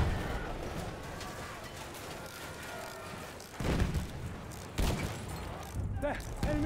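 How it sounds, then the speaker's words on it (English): Machine-gun fire in the World War I shooter Battlefield 1 on the River Somme map, with rapid bursts, heavy booming impacts and distant artillery rumbling under a busy battlefield din, with voices calling out. "Enemy machine gun, sighted."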